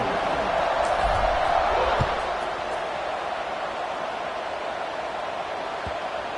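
A stadium crowd roars in a Virginia Tech college football video game, with a broad, steady wash of cheering that swells a little louder at the start, then settles into a constant hum.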